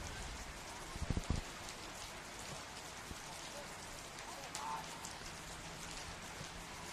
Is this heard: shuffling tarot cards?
no